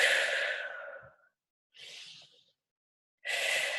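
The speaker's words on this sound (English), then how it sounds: "take some good cleansing breaths" Three deep cleansing breaths taken during a relaxation exercise: a long close airy exhale, then a shorter inhale-like breath, then another strong breath, each separated by near silence, with no talking.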